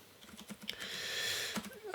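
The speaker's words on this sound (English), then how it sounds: "just typing this out" Fast, light typing on a computer keyboard, a quiet and steady patter of keystrokes with no talking over it.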